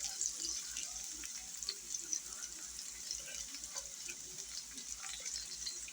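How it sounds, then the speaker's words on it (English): Cornmeal mush fries in sausage grease in a pan, giving a steady, quiet sizzle with small crackles and pops throughout. "I will be dropping that into the sausage grease and rewarming that for me today"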